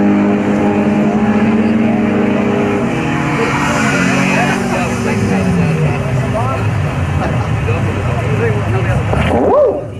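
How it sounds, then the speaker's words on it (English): Drag racing motorbike making a loud, fast pass at Oran Park drag strip, engine roaring and rising in pitch through the gears alongside a race car, with a sharp swell near the end. "now the motorbike there with a 9"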